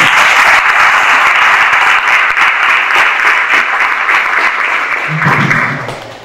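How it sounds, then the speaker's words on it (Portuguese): Audience applause at an entrepreneurs' event in Brazil, a steady, dense wash of clapping from a large crowd that carries on for several seconds before thinning slightly near the end. "Eu peço uma salva de palmas."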